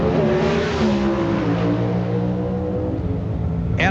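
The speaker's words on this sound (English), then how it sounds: "Unlike the nitro cars that leave the starting line from a dead idle, the Pro Stockers raise the RPMs to the moon" NHRA Pro Stock drag cars at the starting line in 1995, engines held at very high RPM, a loud continuous multi-engine roar with a sharp rising burst at the end.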